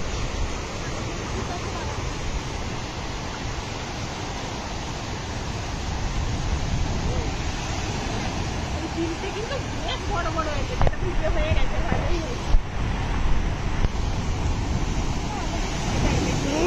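Storm surf during Cyclone Yaas, a constant loud roar of crashing waves mixed with wind buffeting the microphone, with brief voices and shouts in the middle.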